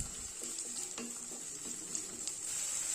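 Two cut onions sautéing in a pan for egg curry, a soft sizzle under irregular spatula scrapes and taps, fairly quiet and close.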